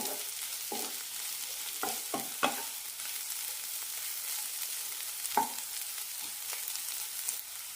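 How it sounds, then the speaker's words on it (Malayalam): Bitter gourd is stir-fried in a pan over a medium flame, with a soft, steady sizzle under irregular scrapes and clacks of a spatula tossing the pieces. The sound is fairly quiet and close, with no speech. "മൂന്നാല് മിനിറ്റ് മീഡിയം ഫ്ലെയിമിലിട്ട് നന്നായി ഉലർത്തിയെടുക്കണം"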